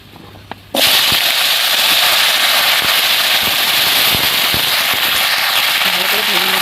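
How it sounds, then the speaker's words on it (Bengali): Bottle gourd stalks, papaya, green banana and potato hit hot oil, setting off an abrupt loud sizzle that stays dense and steady to the end, with a few soft knocks underneath. "এবার যে কেটে নিয়েছিলাম লাউ ডাঁটা, পেঁপে, কাঁচকলা, আলু, ওটাকে ভেজে নেব সব।"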